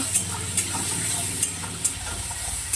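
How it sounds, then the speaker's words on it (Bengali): Prawns sizzling in hot oil in a pan, a steady bright hiss with soft periodic stirring scrapes, heard close with no talking. "এবারে চিংড়ি মাছটা ভেজে নেব"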